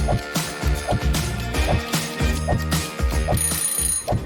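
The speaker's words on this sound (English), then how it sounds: "That's when the phone rang." A telephone ringing in repeated short bursts at a steady rhythm, fairly loud and close, with no talk over it.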